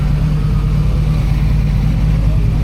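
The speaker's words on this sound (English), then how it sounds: "Darth Vader Scion FRS." A Scion FR-S rolling into a car meet, its engine a steady low rumble close by, droning evenly without pauses.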